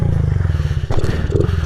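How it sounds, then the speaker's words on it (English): Honda CRF50 pit bike engine idling roughly in snow, a loud, close, steady pulsing putter that wavers as it struggles to keep running. "My bike keeps on wanting to die on me if I don't give it some gas"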